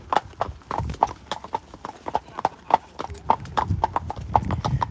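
Horses' hooves clip-clop on a village road in Cartmel in a brisk, even rhythm of sharp knocks. The hoofbeats sound close by, with faint talk and street noise underneath.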